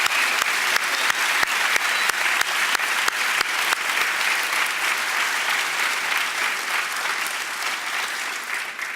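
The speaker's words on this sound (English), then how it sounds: "So a big round of applause" Applause from the audience at an MBA graduation ceremony, a dense, loud wash of clapping from a large crowd in a hall, steady throughout and easing slightly toward the end.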